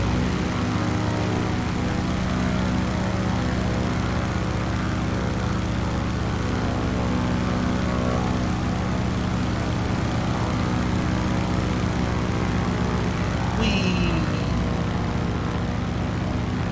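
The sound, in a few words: formation of propeller warbirds flying in Microsoft Flight Simulator video game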